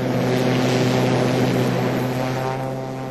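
A propeller-driven airplane on its takeoff run, with a loud, steady engine roar and strong propeller hum, close and constant before easing slightly toward the end.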